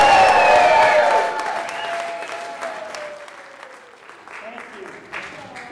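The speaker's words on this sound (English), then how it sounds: "the best way to end the silence is the biggest cheer that you can give" A crowd at a Virginia immigration-reform gathering erupts in loud cheering and applause that peaks in the first second, then thins to scattered clapping and murmur under a speaking voice.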